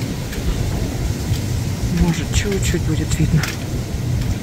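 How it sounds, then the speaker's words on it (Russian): Rain patters outdoors at night while thunder rumbles far off, a constant wash of noise with a person talking close over it. "Не видно, у нас дождик капает."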